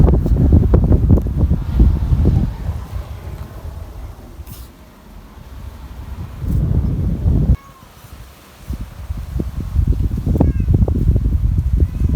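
Strong gusty wind buffets the microphone in loud, rumbling bursts, dropping briefly before roaring back.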